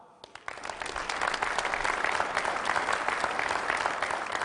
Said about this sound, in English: let's have a round of applause for Sisuban